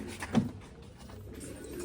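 Soft pigeon coos, a low murmuring burst early on, then fading into quiet background murmur.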